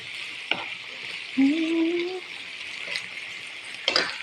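Butter shrimp cook in a pan with a soft, steady background sizzle, a few clinks from the pan and a short spoken voice over the frying.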